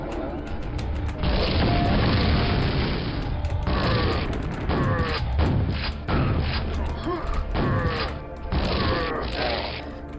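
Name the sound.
grenade launcher explosions in a video game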